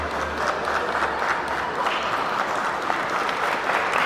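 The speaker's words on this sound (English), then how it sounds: "Applauded by the crowd here in Sao Paulo, Brazil" Crowd applauding at a jiu-jitsu event in Sao Paulo, Brazil, a dense, sustained wash of clapping from a large audience that holds steady throughout, with faint voices mixed in.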